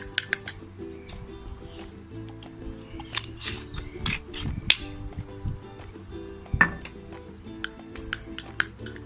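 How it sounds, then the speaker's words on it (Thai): A spoon stirs a homemade eyebrow regrowth cream mixed with olive oil in a bowl, making scattered close clinks and scrapes against the bowl, light and irregular over a quiet background hum. "เสร็จแล้วเราก็คนนะคะให้ส่วนผสมเข้ากัน"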